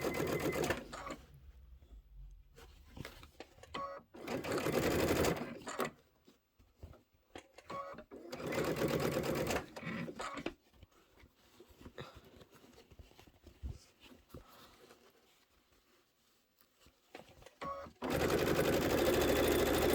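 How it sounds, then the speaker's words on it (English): An embroidery sewing machine with its embroidery arm attached runs in several loud mechanical bursts as it stitches the border onto a pillow, separated by quieter handling pauses, close and with no talk. "I love that I can sew with my embroidery arm on"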